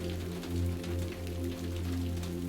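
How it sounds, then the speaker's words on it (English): Steady rain at night outside tall apartment windows, a continuous even hiss with low hum beneath, no talking. "you appreciate the sound of the rain"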